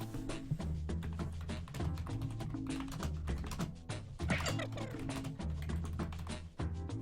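Fast, steady keystrokes on a computer keyboard, a dense run of close taps and clicks throughout, fairly quiet with no talking.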